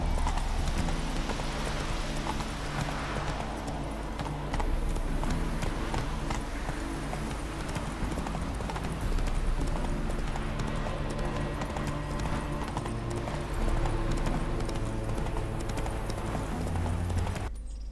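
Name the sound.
horse galloping in a video game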